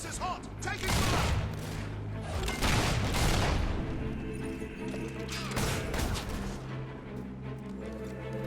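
Video game gunfire in Fable III crackles as repeated bursts and heavy booms with battle noise, loud and close, while voices shout over the fighting.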